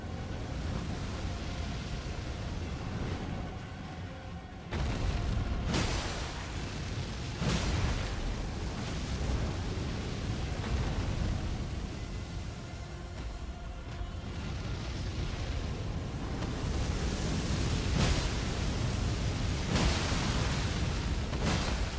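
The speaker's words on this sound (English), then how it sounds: "They'll get killed by this fire breath." Fire breath attack in a guardian raid video game: a sustained, loud roaring rush of flame that runs for over twenty seconds, with repeated heavier bursts and impacts punching through the steady broadband blast.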